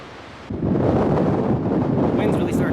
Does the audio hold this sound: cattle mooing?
no